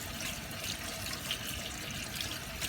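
Cold tap water runs steadily over drained spaghetti in a sink to rinse it, a continuous broadband splashing that holds an even level throughout with no talking.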